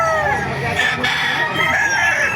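A rooster crows at a busy outdoor chicken market in Baliuag, Bulacan, a loud, close, drawn-out call layered over crowd murmur and other fowl.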